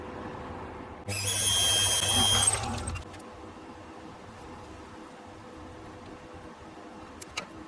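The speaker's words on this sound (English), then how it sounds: "So I can drill a hole in there" A power drill whines loudly for about two seconds while drilling into cast aluminium, then stops, leaving a quiet workshop hum.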